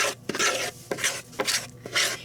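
Banana bread batter being stirred in a bowl for a slow cooker loaf, with repeated rasping, scraping strokes in an even rhythm, close and fairly loud, with no voices.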